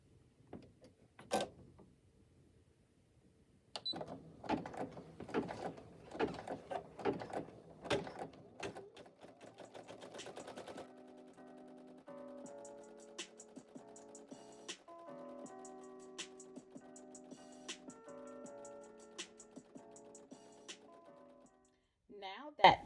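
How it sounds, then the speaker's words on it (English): An embroidery machine stitching a tack-down and satin border for appliqué letters on a shirt in a 5x12 hoop, starting with irregular mechanical clicks and knocks and settling into a steady, rapid, even ticking hum, fairly quiet and close. "I've placed the hoop back on the embroidery machine in slots 1 and 2 so that the tack down and the satin border can stitch for the letters"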